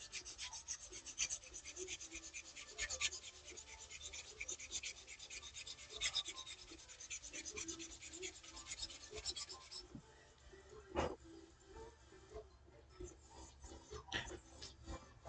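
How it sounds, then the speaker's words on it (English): Sandpaper is worked by hand over a lightsaber part at a workbench, giving steady, close rasping rubs in a quick back-and-forth rhythm. The strokes fall quieter after about ten seconds, leaving scattered scratches and a single sharp knock. "So I have some sandpaper here. Just gonna sand this guy down a little bit."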